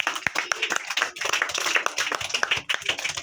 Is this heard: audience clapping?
yes